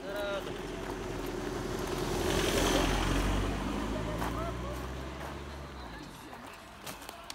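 A car drives past on a forest road where cyclists rest, its rumble swelling to a peak midway and then fading away, with people talking in the background.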